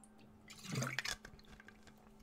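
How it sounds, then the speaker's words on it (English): Someone drinking water up close, a soft slurping swallow with a short gurgle followed by faint wet clicks, quiet and brief. "Let me actually drink some water."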